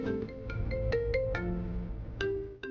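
A melodic phone ringtone plays a bright sequence of electronic notes, clear and fairly close, with no voices.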